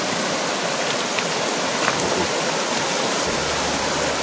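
Water rushes steadily at Brahmapur waterfall, a loud, dense, unbroken roar that stays close and even from start to finish with no other sounds standing out.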